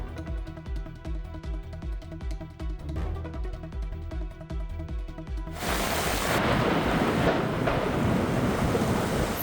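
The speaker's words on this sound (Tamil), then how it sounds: "சென்னையில் பல்வேறு பகுதிகளிலும் திடீரென கனமழை பெய்து வருகிறது" Heavy rain pours down in Chennai with rolling thunder, a dense, loud wash of downpour that swells midway into a steady roar, with no voices.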